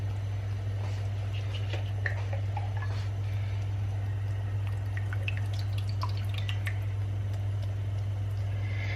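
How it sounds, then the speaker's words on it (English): Vegetable stock is poured into a pan while making a fish curry with coconut milk, heard as scattered light drips and small splashes over a steady low hum, with no talking. "Now I'm going to add my vegetable stock, again 250 mils."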